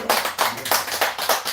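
A church congregation claps in rhythmic unison during a worship sermon, sharp regular group claps repeating about every third of a second, loud and close with no talk over them.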